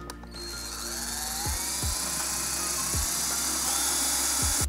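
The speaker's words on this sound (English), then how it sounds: "I'm gonna go really slowly because this is a little bit bigger drill." A power drill bores a hole in a Harley touring saddlebag lid, a steady whirring grind heard close up that carries on throughout, broken by a few short mechanical clicks, with no one speaking.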